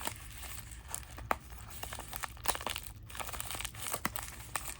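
A sealed pack of MetaZoo sample cards is opened slowly, with close, quiet crinkling and tearing of the wrapper in small irregular bursts and no talking.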